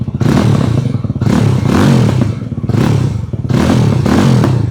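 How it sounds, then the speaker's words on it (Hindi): Yezdi Roadster 2025 350cc motorcycle exhaust revved repeatedly, loud bassy bursts rising and falling in four close surges with a rough, throbbing engine note. "Let's listen to the exhaust note of this motorcycle, because this is different."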